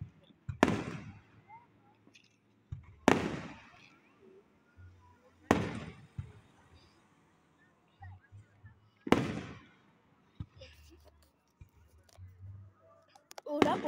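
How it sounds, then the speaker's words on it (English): Fireworks burst outdoors at a distance, five sharp cracks spaced a few seconds apart with faint crackle between them, while people talk quietly in the background. "this is fireworks"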